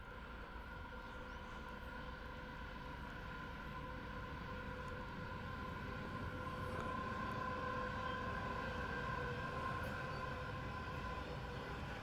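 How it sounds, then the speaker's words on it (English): A coal train rolls past at a steady distance, a continuous low rumble of wagons with faint tonal whines above it, quiet and unbroken throughout. "Oh, here's another coal train."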